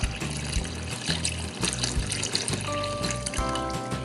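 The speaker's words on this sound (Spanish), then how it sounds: "Seguidamente lo vamos a cubrir con caldo de pollo." Chicken broth is poured into a pot of rice, giving a steady close trickling and splashing of liquid that runs continuously, with a few brief clinks near the end.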